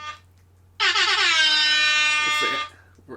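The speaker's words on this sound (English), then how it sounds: "Angry air horns now." A loud, sustained air horn blast with a rich, buzzing harmonic tone, holding for about two seconds before cutting off, with brief quiet before and after.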